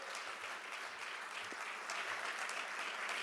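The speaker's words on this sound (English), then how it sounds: "So I would like to give a big round of applause for Adelaide." An award ceremony audience applauds steadily, a dense patter of many hands clapping at a moderate distance, continuing throughout without voices.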